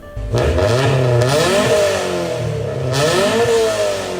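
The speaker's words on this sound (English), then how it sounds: "Why does the Honda Civic have a reputation for rasp and B-can noises?" A Honda Civic exhaust revs up repeatedly, the engine note rising and falling with a raspy, loud drone.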